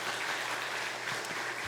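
Church congregation applause during a Sunday afternoon service, a brief faint and distant steady patter of many hands clapping, lasting under two seconds.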